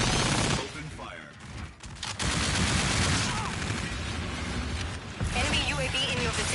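Dense, sustained gunfire from a Call of Duty Zombies match on PS4, rapid automatic bursts layered into a loud continuous barrage, with voices talking over the shooting.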